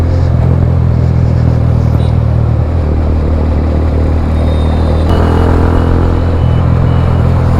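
Heavy highway traffic on the ride out from Hyderabad toward Bhimavaram in the rainy season, heard from a moving motorcycle: a loud, constant roar of engines and wind with vehicles surging past close by.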